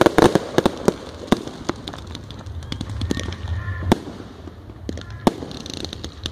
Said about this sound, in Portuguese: Olha os tiros do Bolsonaro